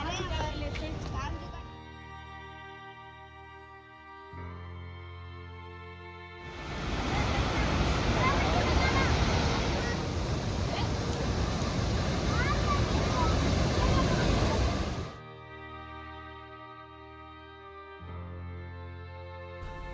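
The Keoti waterfall in Madhya Pradesh gives a loud, steady roar of falling water for about eight seconds in the middle, with music before and after it.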